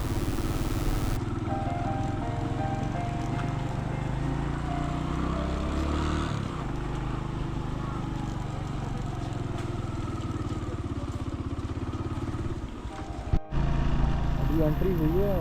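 Motorcycle riding a snowy mountain road in Neelam Valley, Kashmir, its steady engine drone continuous and close throughout, with wind buffeting and a voice talking over it.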